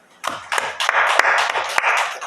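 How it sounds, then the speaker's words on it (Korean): Church congregation applauding during a Wednesday worship service, a dense, close burst of many hands clapping that starts abruptly and carries on steadily. "우리 하나님께 영광의 박수 합시다"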